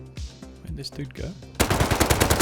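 Automatic gunfire from the Rust video game starts partway through as a loud, rapid burst of evenly spaced shots after a stretch of scattered clicks and softer game sounds.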